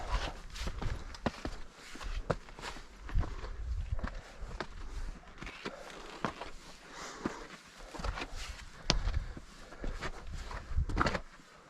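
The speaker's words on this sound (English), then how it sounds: "Now we're going to scramble up these boulders, and we think this is the right way." Footsteps scrambling up boulders on a canyon trail in Palo Duro Canyon, Texas, heard as faint, uneven scuffs and thuds on rock with soft rustling between steps.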